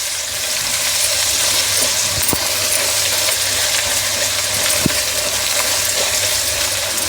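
Pepper chicken masala sizzles steadily in a pan as green chillies are stirred in, with a loud, constant frying hiss and a couple of faint scraping knocks from the spoon.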